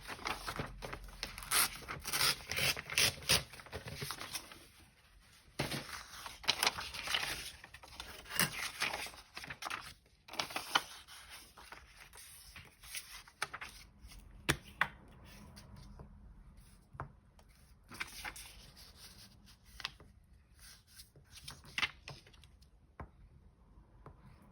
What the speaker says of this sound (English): This is just a piece of junk mail, a junk mail flyer that I've grabbed.